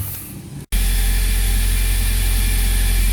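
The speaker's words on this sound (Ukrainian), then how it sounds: "Зараз завели машину, чекаємо, щоб трошки підзарядила батарейку" A Toyota car engine cranks over briefly, catches and settles into a loud, steady idle after work on the air intake, a close, even rumble that runs without pause.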